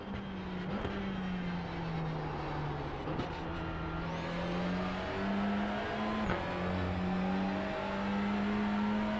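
A TCR touring race car engine in the iRacing sim drones steadily at high revs, with pitch rising and dipping through gear changes and brief shift blips, loud and continuous with no talk.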